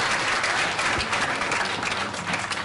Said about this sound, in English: So give Serj a round of applause right now for giving us this wonderful insight on the record.